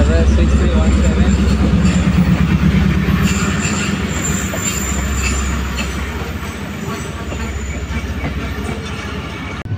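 The Rahman Baba Express, led by a ZCU30 locomotive, races through Malir Cantonment station at full speed with a loud, steady rumble, clattering wheels and squeal. Someone talks over it.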